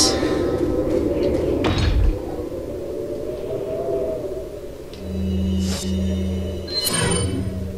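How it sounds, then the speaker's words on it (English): A door opens in the video game Resident Evil 4, giving a mechanical rumble and grind with a sliding, heavy character over continuous game background noise, followed by a couple of clunks. "That opens the door."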